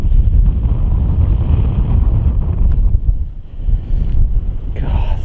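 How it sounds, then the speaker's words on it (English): Heavy wind on a golf course buffets the microphone in loud, low roaring gusts that dip briefly midway, with a short faint sound near the end. "God, so much wind."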